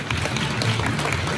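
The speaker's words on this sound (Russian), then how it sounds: "Итак, диплом лауреата под ваши бурные аплодисменты" Audience applause at an open song festival in Pavlodar, a steady dense wash of clapping filling the hall at moderate volume, with faint murmuring beneath it.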